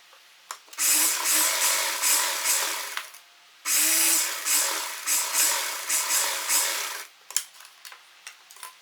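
Sewing machine stitching a child's kurta seam in leftover fabric, whirring in two long runs with slight speed surges, briefly pausing between them and ending with a few short clicks.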